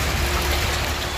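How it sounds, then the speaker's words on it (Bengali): Steady rain falls outdoors, a dense, even wash of patter without pause over a brief stretch. "এদিকে বৃষ্টি চলতেই আছে।"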